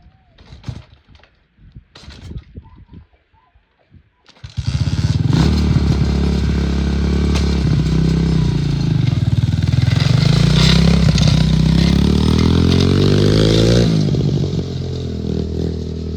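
A GIO VM-125F2 dirt bike, long unused, starts with the choke on after some faint handling noises, then runs loud and close with a rough idle whose pitch rises and falls.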